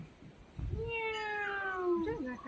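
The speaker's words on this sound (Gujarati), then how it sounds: "મિયાઉ કરે મિયાઉ" A village cat lets out one long, clear meow close by that rises and then slowly falls, following a soft thump, with faint background noise.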